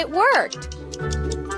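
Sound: clock ticking

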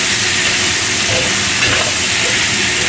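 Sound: stir-frying chicken with shallots and ginger in a wok

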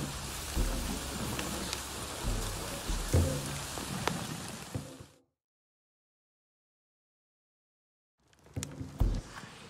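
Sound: heavy rain in video game Avatar: Frontiers of Pandora

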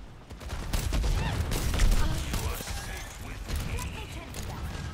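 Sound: gunfire shooting in Overwatch 2 video game

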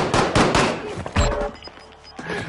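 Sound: gunshots in Call of Duty Warzone video game

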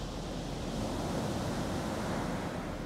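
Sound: ocean waves on the beach at Vik, Iceland

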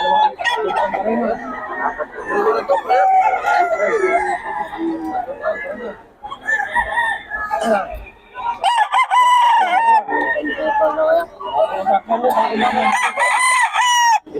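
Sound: Red Kelso gamecock rooster crowing

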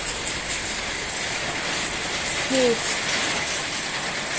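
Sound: rain

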